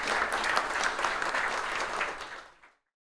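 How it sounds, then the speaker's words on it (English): A burst of conference audience applause, moderately loud and steady, fading out quickly before stopping abruptly into silence. "a big applause for them as well"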